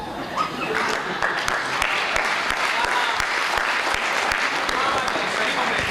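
A large audience at a Hindi comedy poetry gathering (hasya kavi sammelan) in Jodhpur claps steadily and densely, a loud, continuous wash of applause that holds throughout.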